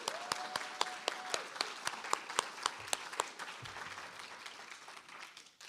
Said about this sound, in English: Can we give another round of applause to Michelle?